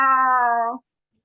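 A single clear cat meow, used as a sound effect in a comics reading: one drawn-out, close, loud call lasting under a second, then silence.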